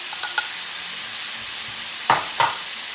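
Seafood pushed to the side of a black rice paella pan with cuttlefish ink, over a faint steady sizzle, with two brief scraping stirs near the end.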